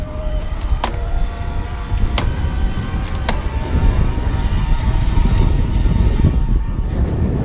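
A Trek Lift+ Lowstep e-bike motor runs at its highest assist level with fast pedaling, a steady close whir under road and wind noise that builds slightly over time, broken by a few sharp clicks.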